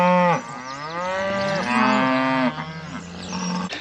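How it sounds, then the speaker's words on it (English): Cattle moo loudly and close by, several long, drawn-out bellowing calls running one after another with wavering pitch, the herd crying out over a quiet farm background. "the cattle have cried to me like they're doing"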